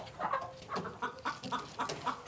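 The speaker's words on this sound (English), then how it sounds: "So like chickens have to lay a lot of eggs in the same box." Chickens clucking in a farm coop with egg-laying boxes, a series of rhythmic, moderately close clucks and murmurs repeating several times, faint and without talk.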